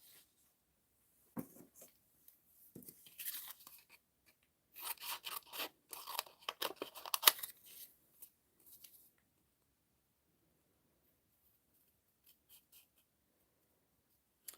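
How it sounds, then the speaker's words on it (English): Scissors cutting out colored paper pieces, a string of crisp close snips and paper rustles clustered in the first half, then fading to near silence with a couple of faint clicks. "Now we just have to cut these out."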